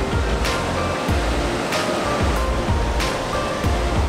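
Ocean waves surge and break along a busy beach, a steady broadband wash with recurring swells roughly every second or so, loud and continuous with no talking.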